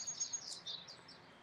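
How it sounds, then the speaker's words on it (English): Birds give faint, high chirps and short tweets outdoors in the bush, a few brief calls over a quiet background. "I'm trying to see if I hear any more birds calling out."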